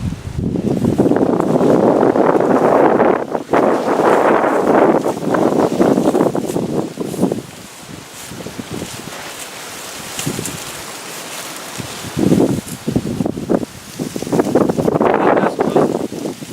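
Strong gusty wind buffeting the microphone outdoors beside a shelter, loud roaring surges that rise and fall, easing in the middle before gusting hard again.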